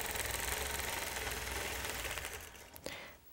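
A quilting machine stitches a quilt with a bullseye template, giving a fast steady mechanical whir of needle strokes that slows and stops near the end, with no voices.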